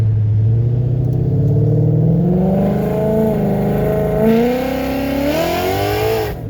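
A Ford Fairmont fitted with a Coyote V8 engine swap accelerates hard on a public road, its loud, close engine roar climbing steadily in pitch through the gears with no pauses and no talking.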